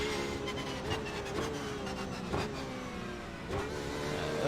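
A Porsche 911 RSR race engine in the iRacing simulator drones steadily and loud, with its pitch climbing and surging in several short rev bursts across the few seconds.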